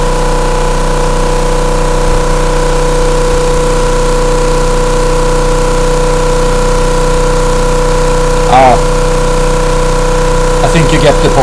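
Electric motor running under load with a shorted winding, holding a steady mid-pitched hum with strong harmonics, close and continuous, with brief scraping handling noises near the end.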